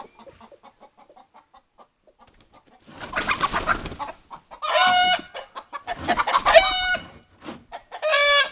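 Chicken calls from a hen, starting with soft low clucks and building into loud, drawn-out squawking bursts, close by with no talking.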